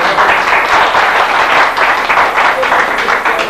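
Audience applause at a poetry festival in Yahyalı, loud, dense clapping that continues without pause, with crowd noise mixed in.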